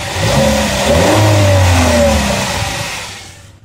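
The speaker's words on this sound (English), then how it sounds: "whenever you rev the engine, you feel the exhaust coming at your hand" A Chevy Aveo engine with a possible exhaust leak revs up close, rising and falling in pitch with a loud throaty roar before easing off, no voices.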